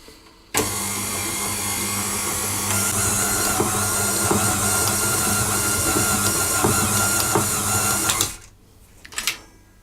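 Electric mixer steadily beating dry ingredients into a butter mixture for lemon icebox cookie dough, a loud continuous whirring drone that starts abruptly and runs for about eight seconds before cutting off, with a few faint clatters after.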